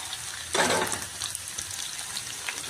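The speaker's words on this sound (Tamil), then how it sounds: "காலிஃப்ளவர், பட்டர் பீன்ஸ், உருளைக்கிழங்கு எல்லாத்தையும் நல்லா கலந்து விட்டுருக்கிறேன்." Mixed vegetables, including capsicum, carrot, beans, cauliflower, butter beans and potato, are stirred in a frying pan for veg kadai, giving one loud burst of sizzle and scraping over a constant background hiss.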